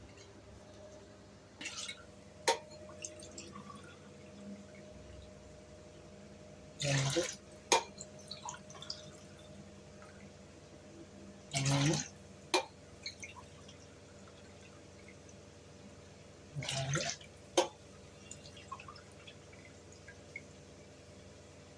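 Water poured by the tumbler into rice for vegetable biryani made with milk, three separate splashing pours spaced a few seconds apart, with a voice counting between them.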